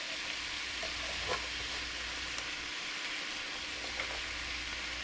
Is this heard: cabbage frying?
yes